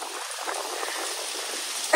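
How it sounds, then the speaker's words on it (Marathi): Rain and wind sweep across an exposed hilltop with no shelter, making a steady, even hiss that stays constant throughout, with a short louder gust or knock right at the end. "पाऊस येतोय, हवा सुटली आहे"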